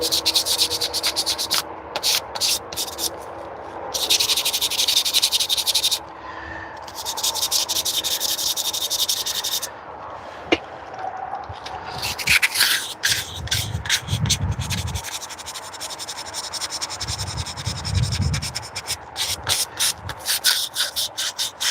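Fine 800 and 1000 grit sandpaper rubs against a surface in bursts of close, hissing strokes, with pauses and changing pressure and a few lower rumbles from handling in between.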